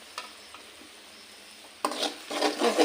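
Spice powders for a fish pickle are stirred and fried in a pan, quiet at first and then breaking into a sudden burst of scraping and sizzling for the last second.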